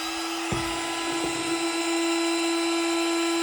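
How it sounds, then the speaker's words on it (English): Cordless heat gun powered by DeWalt batteries, running with a steady high electric whine and fan hum, a couple of brief clicks near the start. "use a heat gun. This is a cordless one, works with DeWalt batteries"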